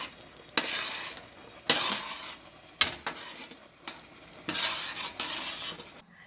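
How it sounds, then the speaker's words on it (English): Pork chile verde being stirred in a pot, a spoon scraping and swishing through the thick stew in repeated strokes with a faint sizzle beneath, close and moderately loud with no talking. "So we just keep it stirring for a little while."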